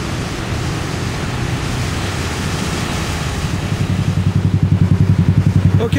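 A motorcycle with a sidecar rides toward the city through flooded Chiang Mai, Thailand, with steady wind buffeting the microphone, then a loud, rapid, throbbing engine pulse that grows stronger toward the end.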